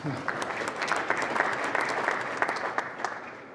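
An audience applauds in a room, a dense patter of many hands clapping steadily with some sharper individual claps, continuing throughout.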